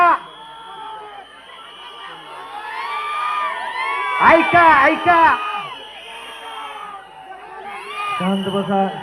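A crowd at a political rally in Mahud cheers and whoops in rising and falling waves, with a loud swell in the middle, while someone speaks through a PA system over the noise.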